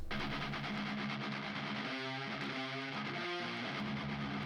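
A muffled, compressed bass guitar thumps out low notes, dull and rounded with the treble rolled off, at a low level.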